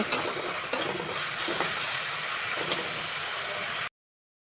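Chicken seasoned with salt and pepper sizzles in a pan while being stirred, a continuous frying hiss broken by a few scraping strokes, then it cuts off abruptly.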